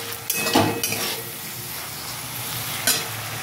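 A spoon stirs Medinipur-style sour okra and shrimp curry with tart mango in a sizzling pan. Close scraping strokes come in a few distinct bursts over a constant gentle frying hiss.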